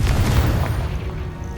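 A Confringo blasting spell explodes in the video game Hogwarts Legacy, a single deep booming burst with a rumbling low tail that fades over a second or so.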